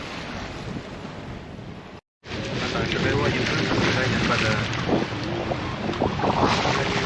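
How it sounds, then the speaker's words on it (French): Strong wind roars across the microphone over the sea on a sailing boat, with rushing water beneath, steady and loud apart from a brief dropout near the start. "il fait beau, il y a un peu de vent"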